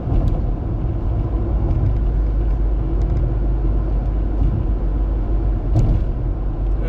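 Inside a car moving along a highway, a steady low rumble of road and engine noise fills the cabin, even and continuous throughout.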